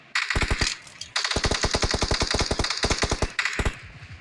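Rapid automatic gunfire from PUBG Mobile comes in several loud, close bursts of evenly spaced shots, with short pauses between them and no talking.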